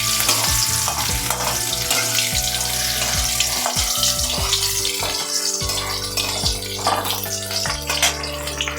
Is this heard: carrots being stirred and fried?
yes